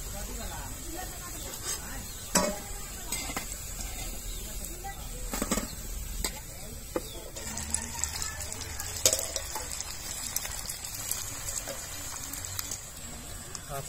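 Manchurian balls frying in hot oil for a homemade hotel-style manchurian, a steady low sizzle with occasional sharper crackles and pops, heard close and without talk.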